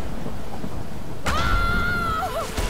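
Stormy weather in the game Tomb Raider (2013), with steady rain hiss and low rumbling throughout, then a sudden loud burst partway in followed by a sustained tonal wail and shifting whistling sounds over the downpour.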